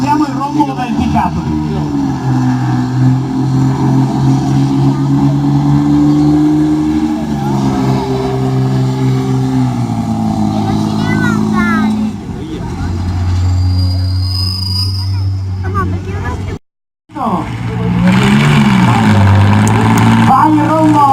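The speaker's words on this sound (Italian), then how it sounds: "ascoltiamo il rombo del pick-up" A pick-up truck's engine roars steadily as it pulls the sled at a 2017 tractor pulling event in Castelminio di Resana, loud and close, with the pitch shifting partway through and a brief cutout near the end, under constant commentary from a man.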